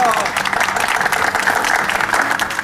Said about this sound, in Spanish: Un aplauso para cada uno de ustedes, por favor.